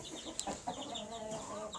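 Chickens with their chicks cluck softly and steadily, with a few sharper peeps among them, faint and close in a poultry shed.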